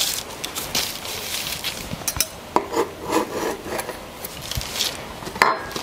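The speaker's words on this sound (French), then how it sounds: "Donc je vais plutôt y aller au couteau, tout autour, tranquillement." A knife runs slowly around the ring holding a chocolate cake, giving soft scraping and rubbing strokes with a few small clicks, close and fairly quiet with no talk.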